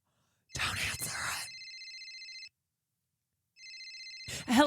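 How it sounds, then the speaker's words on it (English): A telephone rings twice, a steady electronic trill in two long bursts separated by a pause, loud and close, with voices talking briefly around the rings. "That would be so crazy if the phone rang."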